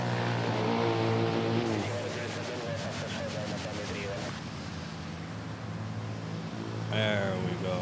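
A heavily loaded Airbus A321neo departing Manila for Davao sends out a moderate jet engine rumble with tonal whine. People talk briefly over it, and the roar swells again near the end.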